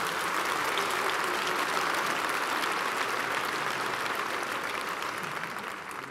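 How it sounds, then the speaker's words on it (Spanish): Audience at an opera lecture on Mozart's Don Giovanni applauding in a steady, dense round of clapping that fills the hall and tapers slightly at the end. "Se puede aplaudir, sí, sí."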